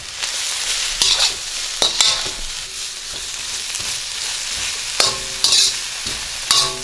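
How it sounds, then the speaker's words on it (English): Sliced onion and green onion pieces stir-fry for Korean japchae, a steady sizzle broken by a few sharp clatters of a utensil against the pan, close and alone with no voices. "I'm going to stir that for another minute."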